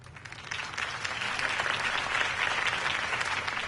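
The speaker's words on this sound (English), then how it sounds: "could have heard that applause" A crowd applauds a campaign speech in the Telltale Batman video game, a steady wash of clapping that swells slightly and holds at moderate distance, with no voices over it.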